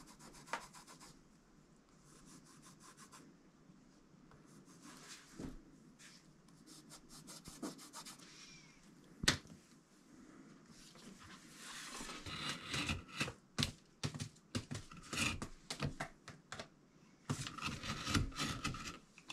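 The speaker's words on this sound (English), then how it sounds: "as I'm cutting these slits in here" A knife cuts slits in leather for a knife sheath: close scraping and rubbing strokes, quiet at first and then quicker, louder bursts of cutting toward the end, with no talk.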